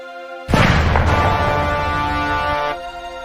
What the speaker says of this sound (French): C'est le bruit d'une explosion chez notre voisin